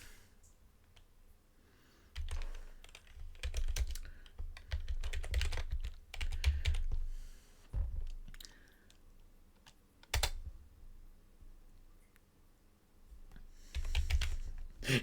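Rapid bursts of keystrokes clatter on a computer keyboard during play of the hacking game Bitburner, typing in uneven flurries with brief pauses between runs.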